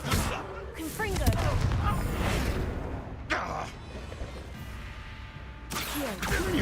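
Confringo spell blasts go off in Hogwarts Legacy as a few broad, crashing bursts spaced a couple of seconds apart over ongoing game ambience, with a voice speaking between them.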